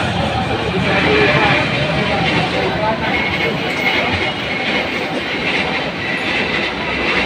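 A train rolls past with a steady, loud rumble and rattle of railway cars, continuous throughout and heard over people talking.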